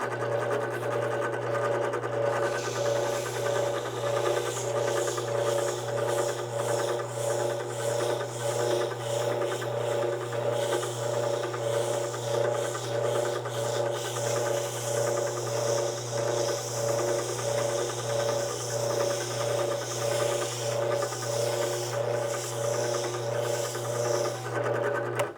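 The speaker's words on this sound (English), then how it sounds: "what I got here is a piece of 400 grit wet sand, wrapping it around a paint paddle. Got some WD-40 on it. I'm gonna use that to polish it up" A Model A Ford trunk hinge pin being polished with 400 grit wet sandpaper wrapped around a paint paddle and wetted with WD-40, giving a steady close rubbing rasp over a constant motor hum, with no talk.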